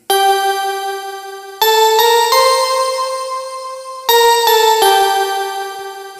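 Yamaha PSR-E463 keyboard on voice 187 Bridge plays sustained bright harmonic chords, three loud held notes changing in turn, no voices.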